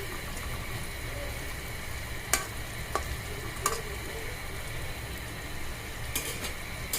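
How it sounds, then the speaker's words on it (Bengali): Nimki dough pieces fry in hot oil with a steady, even sizzle throughout, broken by a few sharp clinks of a utensil against the pan. "লাল করে ভেজে নিব যাতে জিনিসটা মুচমুচে হয়।"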